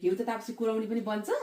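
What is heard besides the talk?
No distinct noise like a dog, phone or traffic.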